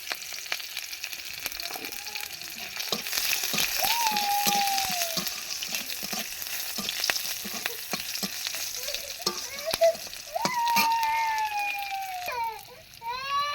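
Whole cumin seeds with green chillies, bay leaves and garam masala crackle in hot oil, a soft continuous sizzle with light stirring scrapes and small pops close by.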